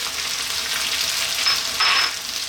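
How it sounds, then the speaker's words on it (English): Garlic ginger paste hits a hot pan for a vegetable biryani, giving a steady bright sizzle, close and continuous, swelling briefly louder near the end. "We're now going to put in our garlic ginger paste"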